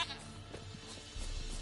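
A goat bleats in The Witcher video game, a short wavering cry near the start over quiet game ambience, followed by a low rumble.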